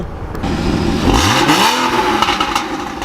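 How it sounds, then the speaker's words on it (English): A 981 Porsche Boxster engine revs up loudly, its pitch sweeping up and back down in a rising, falling growl, close and unbroken. "What a good sounding car."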